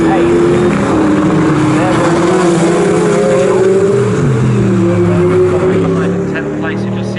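A Brabham BT62 race car engine droning at high revs on the Snetterton circuit during a GT Cup race, a loud sustained whine that shifts pitch as it passes, with a commentator talking over it.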